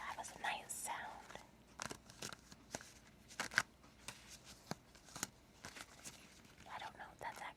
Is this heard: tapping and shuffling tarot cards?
yes